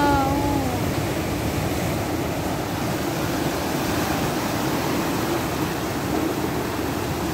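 Broad steady surf roar of ocean waves breaking at Galas Beach in Dipolog City during high tide, a continuous wash with no clear gaps, a faint tonal squeal at the very start.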